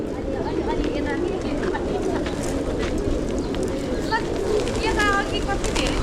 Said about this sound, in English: There's a ton of pigeons here.